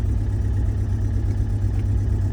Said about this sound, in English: now the engine is running